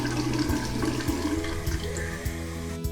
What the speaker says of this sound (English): the first thing we're gonna do is just fill them halfway up with clean water